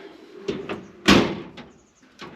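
Drawers in a Mercedes Sprinter solar installer's work van sliding and knocking, a few light taps and one sharper close-range clunk near the middle, no talking.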